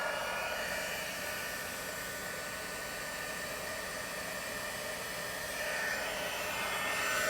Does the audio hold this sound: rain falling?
no